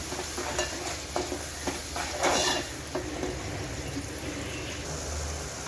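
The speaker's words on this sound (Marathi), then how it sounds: "तर यावर टाकायचं आहे वाटण. आता हे आपण छान असं तेल सुटेपर्यंत परतून घ्यायचं." Ground masala paste for a surmai fish curry being stir-fried in hot oil, giving a steady soft sizzle with repeated scraping stirs of a spoon against the pan, close and fairly quiet, with no speech.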